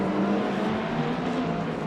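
A BMW GT3 race car runs down the main straight at a circuit, its engine a steady loud drone with a held pitch, carrying on without break for under two seconds.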